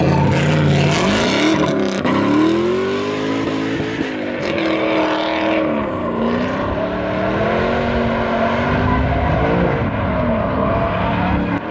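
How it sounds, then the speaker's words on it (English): A V8-swapped Mazda Miata drifting on a track, its engine roaring loud and close with rising and falling revs as the throttle is worked, a sustained harsh growl that wavers in pitch through the slide. "I've got a V8 in a Miata. It's on the track. I'm drifting it."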